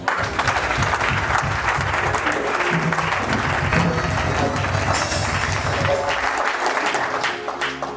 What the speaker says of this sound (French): Est-ce que tu peux me donner les acclamations?